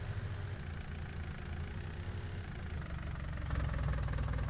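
Loader tractor engine idling in Farming Simulator 19, a steady low rumbling drone with a faint knocking pulse that swells slightly louder near the end, with no voices.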